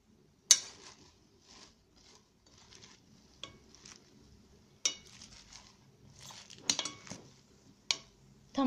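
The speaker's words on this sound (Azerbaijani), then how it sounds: "Tamamilə yağı da içərisinə əlavə etdim və qarışdırdım." Oil being whisked into a salad dressing for a Chinese cabbage and pomegranate salad, heard as scattered light utensil clinks and scraping strokes against a bowl, irregular and close, with quiet gaps between.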